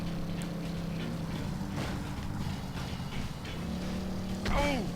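A motorbike rides in No More Heroes on the Switch, its engine a steady droning hum that holds for several seconds and swells briefly near the end, with someone talking over it.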